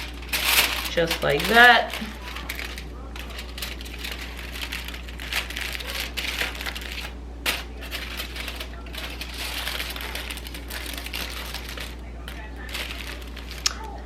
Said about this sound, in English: She's gonna put some foil on it